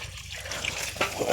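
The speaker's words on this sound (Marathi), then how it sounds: "लिंबोणीला पाणी सोडूया" Water trickles and splashes briefly onto the ground around a lemon tree, close by, with a soft steady flow and a few louder spatters near the end.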